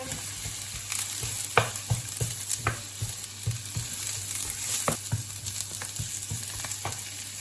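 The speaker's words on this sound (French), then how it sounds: "Alors je vais mettre les oignons dans l'huile." Onions fry in oil in a pan, a steady sizzle broken by repeated scraping taps of a utensil as they are stirred, close and fairly loud with no talking.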